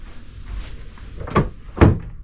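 Two quick thunks of a small fridge door opening and bumping shut, close by, after a moment of quiet room noise.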